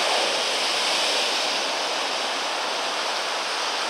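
Morning sea waves wash onto the rocky shore at Aci Trezza, Sicily, as a steady loud broadband hiss and roar with no pause.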